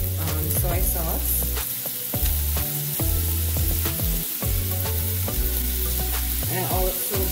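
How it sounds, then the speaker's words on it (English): Soy sauce sizzles in a pan of frying egg fried rice, a steady loud hiss with stirring clatter, while music plays prominently over it. "I'm going to add about a teaspoon or a tablespoon of soy sauce."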